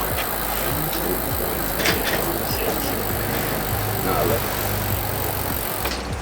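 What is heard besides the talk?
road bike gears being shifted through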